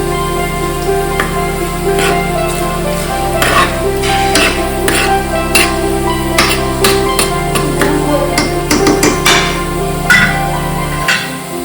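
Garlic frying in oil in a pan as part of home cooking, with repeated sharp clinks and scrapes of a spoon stirring over a low, steady background hum.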